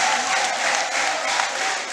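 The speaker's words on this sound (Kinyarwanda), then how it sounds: "dukomere Imana amashyi" A church congregation applauds during a service, a dense, steady wash of clapping from a crowd that fills the room with loud, continuous noise and no clear pauses.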